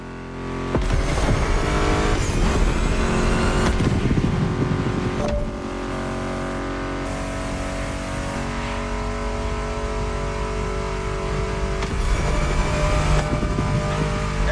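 Roaring car engines rev and whine continuously at high volume, with gear shifts and screeching tires, racing sound from the video game The Crew with no talking.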